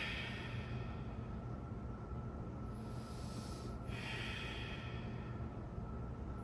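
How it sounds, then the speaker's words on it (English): Slow, audible Ujjayi breathing during a yoga class: a long breathy hiss through the throat fades briefly mid-clip, then a new breath starts, over a constant low background hum. "maybe tapping into that Ujjayi breath"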